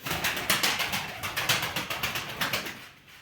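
Pigeons make a steady, rapid pulsing sound, a dozen or so even beats in a row that fade slightly at the end.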